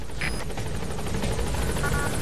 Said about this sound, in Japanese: ヘリを呼んで。